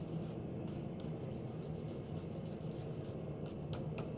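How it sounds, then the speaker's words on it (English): A wire brush scrubs scale off an unfluxed forge weld on a multi-bar pattern-welded billet, giving a steady, close, continuous rasping scrape that runs through the whole stretch without pause. "dip your wire brush in some water and scrape off the scale that's formed"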